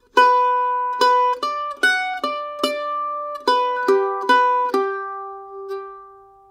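Solo mandolin playing a melodic sequence from Silkesvalsen, a Nordic folk waltz, starting on B with the first finger; bright plucked notes in lilting waltz rhythm, close and clear, closing on a sustained ringing note.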